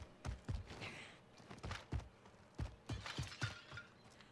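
Glass shatters in a Warzone battle royale match, a run of sharp, fairly quiet crashes and clinks tumbling irregularly over a few seconds.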